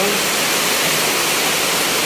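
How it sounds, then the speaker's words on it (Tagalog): Floodwater rushes steadily after heavy rain, a continuous broadband roar of flowing water that fills the whole stretch without pause, fairly loud and close. "Oh, ang tubig dyan, oh, papunta dito."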